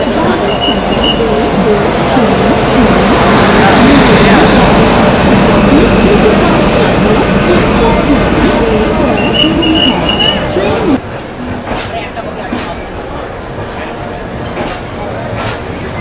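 The Rajdhani Express rumbles loudly at a New Delhi station platform, a heavy continuous roar that drops to a quieter hum partway through, with people talking nearby.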